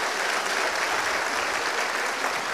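Audience applause at a bachelor's degree graduation ceremony, a steady, dense clapping from a crowd filling the hall, even in loudness from start to finish without voices.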